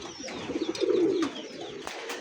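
A pair of king pigeons coo close by, a soft, low, throaty burbling call swelling to a fuller coo before fading, with faint clicks and rustles in a quiet setting.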